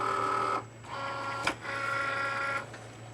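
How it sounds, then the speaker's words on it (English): Cricut Maker cutting machine loading a cutting mat, a close mechanical motor whir that runs in two stretches with a brief pause and a small click between them. "So I will go ahead and I will load the mat."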